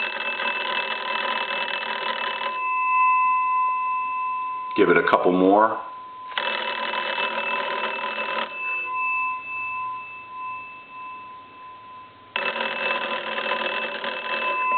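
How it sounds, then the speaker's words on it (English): An old wooden wall telephone, out for repair, rings its bell in loud, buzzy bursts of a few seconds each, separated by pauses; someone speaks briefly in one of the gaps. "and I'm going to ring the phone."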